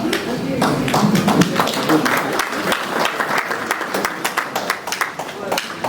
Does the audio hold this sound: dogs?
no